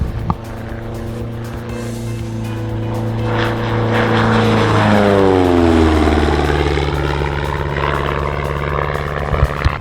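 A bush plane's propeller engine drones loudly and steadily as it comes in to land, its pitch sliding down and back up as it sweeps past close by, with no talking.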